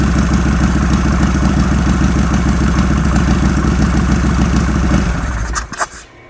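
Harley Sportster 1275 motorcycle engine idling loud and close with a steady low pulsing throb for about five seconds, then stumbling and dying away into a few faint clicks and near silence.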